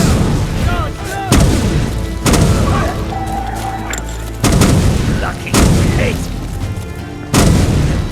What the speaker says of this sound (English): They aren't ready for my novice destruction spells.